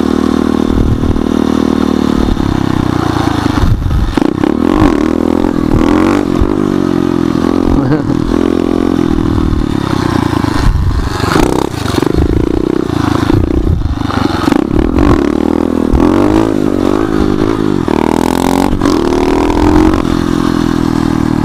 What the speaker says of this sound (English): Had to hit a wheelie for those kids right there.